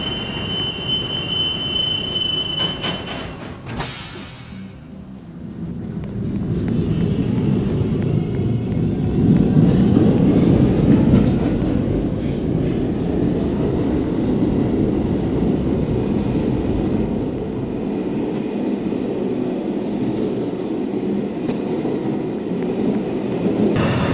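A Manhattan-bound New York City subway 1 train runs, a loud sustained rumble and roar that swells as it picks up speed, with a high whine early on and screeching wheels beneath.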